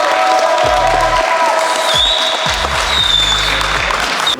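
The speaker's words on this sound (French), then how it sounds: "on applaudit bien fort s'il vous plaît, Mathéo." Audience applause at a karting Grand Prix prize-giving, a steady dense wash of clapping from a crowd with loud low-frequency rumble or thumps mixed in, sustained throughout.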